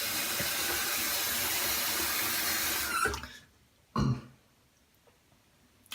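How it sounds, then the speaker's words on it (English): Tap water runs loudly into a sink for about three seconds while a Micro Touch One razor is rinsed, then cuts off, followed by a short splash of water and quiet. "just gonna rinse up and we'll go for our second pass"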